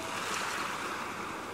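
Ocean waves wash in a steady, broad roar of surf that neither rises nor falls much, with no voices over it.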